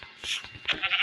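Goat bleating in a video game, a short bright cry repeated a couple of times within about a second, moderately loud, with faint background game sounds.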